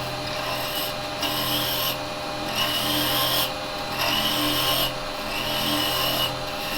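Steady rasping cut of a 6mm hollower working inside a piece of wood spinning on a lathe, continuous and close, swelling in regular pulses about once a second as the tool sweeps through the hollow.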